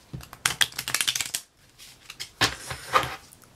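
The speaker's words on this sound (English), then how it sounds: "It is shuffled, but I'll shuffle it a couple times on camera" Someone shuffles a deck of playing cards with one joker, giving two bursts of rapid riffling flutter separated by a short pause, close and fairly soft.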